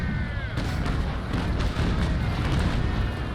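A ship's long-gun broadside in Naval Action, a rolling series of deep cannon booms firing in quick succession after a half-second lull, heavy and continuous over ambient sea-battle rumble, with no talking.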